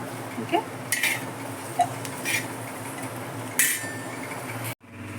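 Fried okra, its sliminess cooked off, being scraped from a pan into a bowl: a handful of sharp metallic clinks and scrapes of a utensil against cookware, spaced irregularly, then an abrupt cut to near silence.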